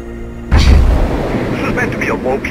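A heavy burst of gunfire breaks out suddenly in the video game Mirror's Edge on a rooftop, booming and rumbling continuously after a quieter start, with faint voices under it.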